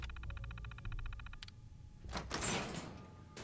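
A door opening in an armory in the video game Fallout 4: a rapid mechanical clatter of unlocking, a clunk, then a loud whooshing slide as the heavy door moves open, with a low hum underneath.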